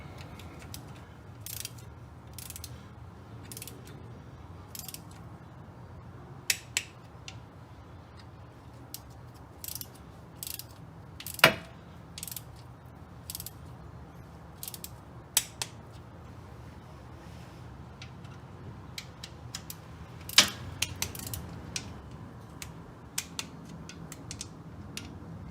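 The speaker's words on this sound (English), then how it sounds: "next I'm going to get out the torque wrench, torque each of them to 105 inch-pounds in an alternating crisscross fashion" Torque wrench clicking as it tightens the transmission pan bolts on a 2015 Dodge Grand Caravan SXT, with scattered sharp ratchet clicks and snaps over a low steady background hum, fairly quiet and close, with no talking.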